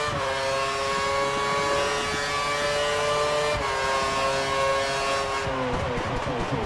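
A Formula One race car engine in the F1 2013 video game holds a loud, steady high whine that dips in pitch near the end, with a faint voice underneath.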